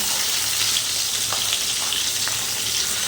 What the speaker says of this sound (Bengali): মাছগুলো খুব ভালো করে ভেজে নিতে হবে